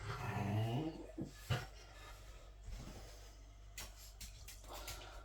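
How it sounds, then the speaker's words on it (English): A dog whimpering and growling in the background of a kitchen during jam making, with a louder whine early on followed by fainter intermittent sounds and occasional clatter. "that noise you hear in the background is my dog Ollie."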